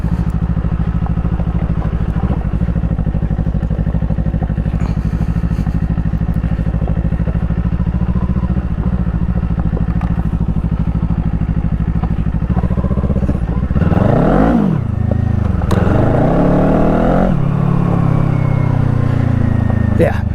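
A Kawasaki Eliminator cruiser motorcycle fitted with a Coffman's exhaust drones steadily while riding, close and loud with wind rush. Near the end come a few sharp rising and falling revs.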